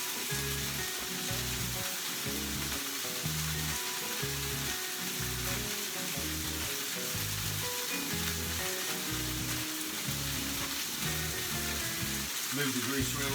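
Chicken frying in grease in a pan gives a dense, continuous sizzle close up, with rhythmic scraping pulses as the grease is moved around, steady and loud throughout.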